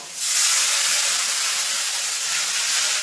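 Water poured into a hot pan of tomato, cumin, dried chili and ginger gives a loud, steady sizzling hiss that lasts about three seconds and then stops abruptly.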